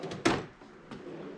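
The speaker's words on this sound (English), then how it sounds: "put your drawer back in, engage the slides" A metal tool cart drawer slides back onto its rails with a brief rumbling scrape and a dull knock, followed by a lighter tap a moment later.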